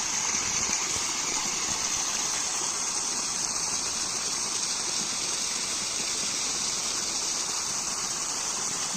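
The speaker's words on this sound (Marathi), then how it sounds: "पाणी केवढं झालंय आहे ओव्हरफ्लो पूर्ण ओव्हरफ्लो झाला आहे" Steady, loud rush of water pouring continuously as it overflows a small village check dam, a dense broadband roar with no pauses, close by and alone without voices.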